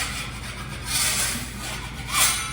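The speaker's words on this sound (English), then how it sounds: "Okay, so I'm gonna scrape those." Patched spackle over wall holes being scraped smooth with a tool, heard as close, raspy rubbing strokes that swell in two or three bursts against a low background hum.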